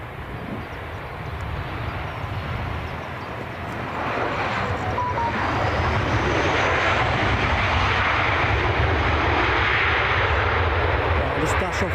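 A Ryanair Boeing 737 airliner on final approach to Edinburgh Airport roars in with a steady, broad engine rumble that grows louder and nearer over the clip, with a person talking over it.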